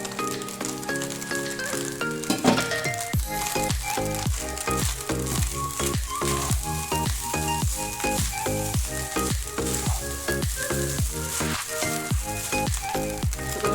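Egg fried rice with soy sauce fries in a hot pan with a loud, continuous sizzle and crackle, while rhythmic background music plays steadily throughout.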